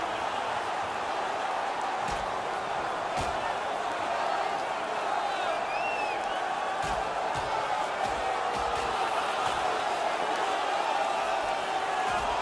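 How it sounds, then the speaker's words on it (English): A hockey arena crowd roars during a fight after a stoppage in play, a dense, steady wall of noise with scattered sharp thuds, while commentators talk over it. "And the crowd on their feet."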